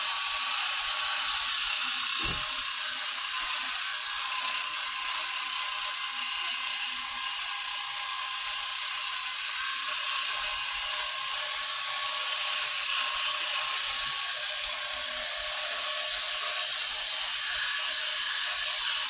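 An electric shaver buzzes steadily at close range while trimming a mustache, a continuous high whine with a brief knock near the start.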